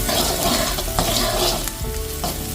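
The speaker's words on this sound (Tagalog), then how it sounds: "sabay na po natin yung ating bawang at sibuyas para hindi po siya masunog" Garlic and onion sauté in butter for buttered shrimp, giving a loud, steady sizzle and crackle from the pan with no pause.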